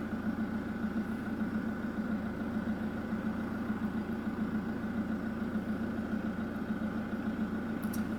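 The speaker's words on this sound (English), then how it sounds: "I'm not going to leave my engine running for the next 10 minutes" An Adria Twin motorhome engine idles steadily at close range, a constant low rumble with an even vibrating drone and no changes in pace.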